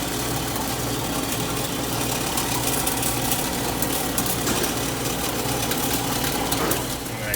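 Steady mechanical drone of a Howe ice machine running with its gear reducer, a continuous low hum with broadband machinery noise, close and constant throughout.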